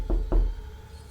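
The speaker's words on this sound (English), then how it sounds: "A soft knocking sound came from behind the door." Two soft, dull knocks on a door land close together near the start, followed by quiet room tone.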